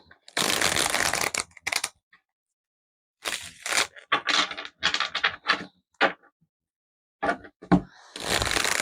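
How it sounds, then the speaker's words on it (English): Tarot cards are shuffled in several separate bursts of close riffling and slapping, with long silent gaps between them and no talking. "I shuffle them heavy 3 times and then I kind of do a light shuffle after that."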